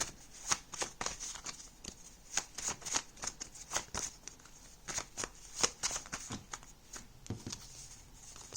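Tarot cards are shuffled close by in a run of crisp, rapid riffling bursts with short gaps between them. No one speaks.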